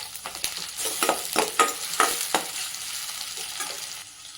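Onions fry in a pan for palak paneer, a steady sizzle broken by several sharp stirring scrapes of a spoon in the first half, then quieter frying, close and alone with no voices.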